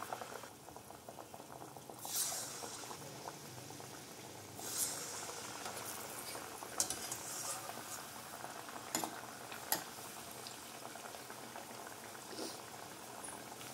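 Thati appalu, palm-fruit dough patties, frying in hot oil with a soft continuous bubbling, broken by a few brighter spatters and splashes as pieces are moved.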